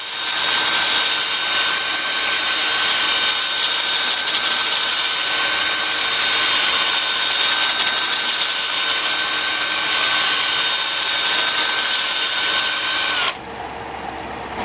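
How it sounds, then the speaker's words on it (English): Apricot wood spins in reverse on a lathe while being sanded at 80 grit, producing a loud, steady whirring hum with a rough abrasive hiss that runs unbroken before cutting off abruptly near the end. "I'm starting the sanding at 80 grit, working up through 400"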